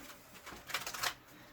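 A deck of tarot cards is shuffled by hand in a quick, soft flurry of papery riffling that peaks midway, faint and close with no talk.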